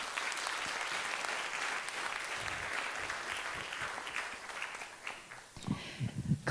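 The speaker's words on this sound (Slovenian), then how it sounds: "En aplavz, prosim." Applause from the audience at a regional sports awards ceremony, a sustained dense clapping crowd that thins out toward the end as a few louder nearby claps and sounds break through.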